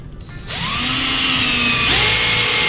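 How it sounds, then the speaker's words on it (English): A handheld power drill spins up and bores a hole in a clamped workpiece. Its loud, steady motor whine runs throughout and shifts pitch upward near the end as the bit cuts deeper. "I'm now going to go ahead and start getting this drilled out."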